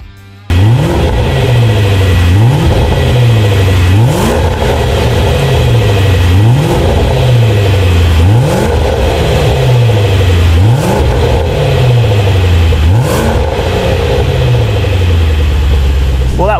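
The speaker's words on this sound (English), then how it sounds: "Now it's time to test the exhaust." Range Rover SVR Typhon with its exhaust valves closed, revving repeatedly in a rhythmic series of loud, close blips that rise and fall about every one to two seconds over a constant idle rumble.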